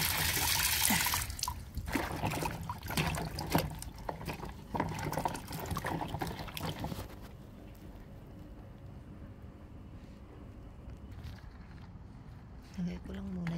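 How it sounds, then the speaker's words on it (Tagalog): Potatoes are rinsed in water, with splashing, rubbing and trickling that is busy and fairly close for the first few seconds, then a quieter stretch of faint drips and small knocks, as a voice speaks now and then. "Meron akong patatas. Hugasan ko na to."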